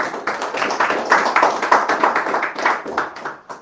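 Worship congregation applauding for Jesus, a close, loud patter of hand claps with a slightly uneven rhythm through a few seconds, no voices heard.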